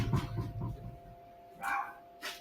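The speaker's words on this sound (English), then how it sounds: "I don't know what she's barking at." A dog barks several times indoors: a quick burst of sharp barks at the start, then two more separated barks after a pause, fairly close and moderately loud.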